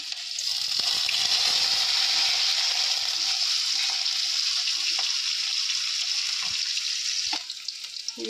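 Ginger and green chillies sizzle steadily in hot oil in a pan, a loud continuous hiss with a few faint clicks of a utensil, the frying dying down briefly near the end.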